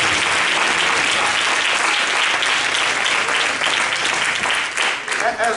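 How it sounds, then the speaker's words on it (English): A church congregation at a men's rally claps together in thanks to God, a loud, continuous wash of many hands clapping, with some voices and crowd noise mixed in beneath. "take a moment and clap our hands to the heaven and thank God"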